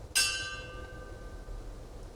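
A church bell at a police officer's funeral, the Arvada officer's service, rings out with one sharp strike whose long harmonic tone decays slowly over a low outdoor rumble.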